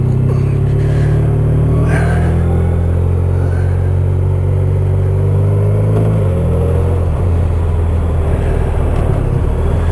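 Continuous engine drone and wind roar from a 2010 Honda VFR1200F DCT motorcycle ridden at night, loud and steady with a slowly shifting pitch as it cruises, no speech.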